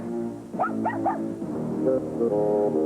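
A big dog in a 1992 cable TV commercial gives a run of three quick barks, close and loud, followed by a lower drawn-out whine or growl over a steady background hum.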